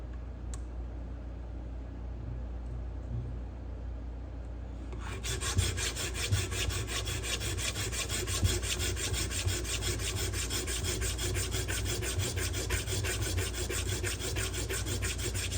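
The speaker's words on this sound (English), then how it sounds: "We're gonna switch on to our next stone. So this is the 150 grit now." Steady rasping strokes of a knife on a 150 grit stone in a Tsprof sharpener start about five seconds in and continue evenly and close up, over a low background hum.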